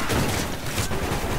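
Rapid gunfire in the shooter game Modern Warfare 3 keeps going without a break, its steady rattling bursts close and loud for the whole moment.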